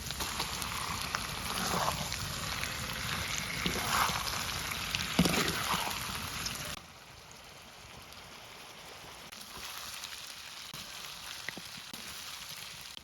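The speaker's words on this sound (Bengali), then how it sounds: "মাংসটা ভাজা হয়ে গেছে" Chicken meat fries in a wok with garlic, ginger and onion for tawa chicken. A loud, rain-like sizzle with scattered crackles drops to a softer, steady hiss partway through.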